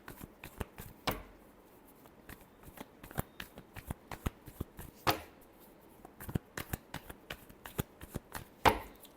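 Tarot cards being shuffled by hand, a run of quick crisp riffling clicks and soft slaps in an uneven rhythm, close and fairly quiet with a few sharper snaps standing out.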